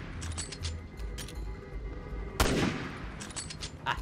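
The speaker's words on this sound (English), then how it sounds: "I'll shoot him again." Gunfire in the video game Resident Evil 6: a few sharp shots and short bursts, one especially loud close blast midway, set against a low rumbling game backdrop with no voices.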